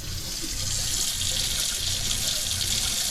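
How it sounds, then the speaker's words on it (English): Water gushes steadily from a faucet fed by a pump in a remote Alaska home, a loud, even hiss and splash that runs unbroken and close throughout. "all I'm getting right there is the residual pressure that was trapped in the line between the pump and the faucet"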